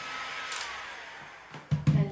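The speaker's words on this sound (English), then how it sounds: "I'm gonna get the heat gun, heat it up again to make it nice and bendable basically." A heat gun blows in a continuous airy roar as it warms material to make it bendable, then a few sharp knocks and clatters land close by near the end.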